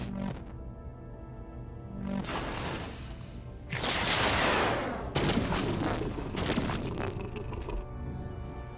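Missiles launching in a space battle in the video game Endless Space 2, a series of loud rumbling bursts and booming whooshes over a steady electronic hum, coming in overlapping waves.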